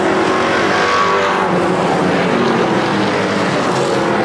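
Dirt track race cars roar around a speedway in Plattsburgh, NY, a loud, continuous blend of several engines at full throttle, close by and steady throughout with no pauses.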